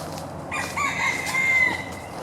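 Chickens in a farm chicken yard of mixed motley birds, with a rooster's crow and hens clucking close by, continuous over the short stretch with a noisy yard background.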